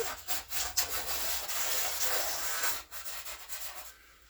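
Steady rubbing and scraping of sanding against the body of a 1962 Chevrolet Impala under restoration, continuous back-and-forth strokes, close and fairly loud.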